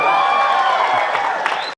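Audience at a public speaking talk cheering on cue, a short loud burst of mixed whoops and shouts that stops abruptly.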